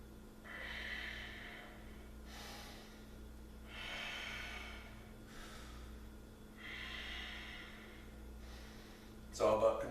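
Controlled deep breathing during a yoga pose: slow, audible inhales and exhales alternate in a steady rhythm, close and fairly soft, followed by a brief louder rustle at the end.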